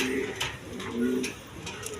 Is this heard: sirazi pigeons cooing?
yes